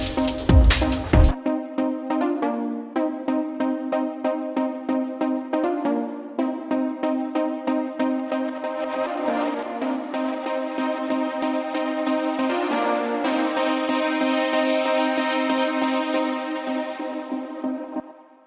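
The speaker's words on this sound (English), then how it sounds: "with this sound, I just wanted like a virtual analog sort of stab" A processed virtual analog synth stab plays as a rapid run of bright, repeated chordal hits with heavy modulation. It opens with a loud burst and sustains at an even level before fading at the end.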